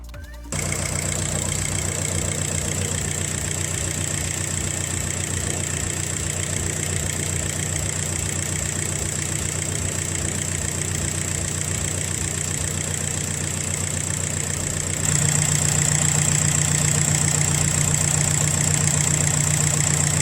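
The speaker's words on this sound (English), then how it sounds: "We will let 1 minute to the engine to run" A Volkswagen car engine idles steadily and close by after an oil service, a constant low rumble with a fine rhythmic knock, growing slightly louder and fuller partway through.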